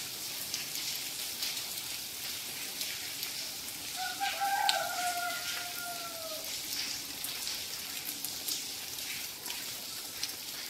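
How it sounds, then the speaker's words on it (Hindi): Steady rain falls outdoors after a night of heavy downpour and strong winds, a continuous broadband hiss throughout, with a rooster crowing briefly in the middle. "बारिश सुबह से फिर शुरू हो गई है होना,"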